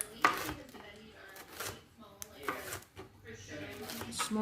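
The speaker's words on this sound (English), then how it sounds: "sticks of pepper, and then I'm going to cut them into small squares, or diced basically" A knife chops bell pepper on a board, producing irregular close taps and thuds, while a person talks throughout.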